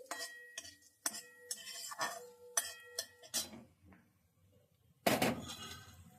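Fried raisins and other ingredients stirred and mixed in a pan with the gas turned off, a spoon clinking and scraping in uneven strokes, close and fairly quiet, ending in one louder clatter.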